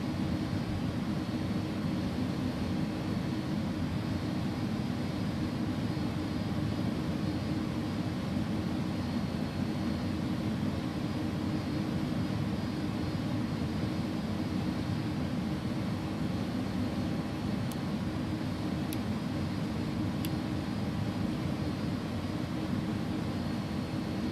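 Airbus A300-600R jet in the X-Plane 11 simulator rolling down runway 29 right at Tehran Imam Khomeini for takeoff, a steady broadband engine roar with heavy low rumble holding constant throughout, no talk.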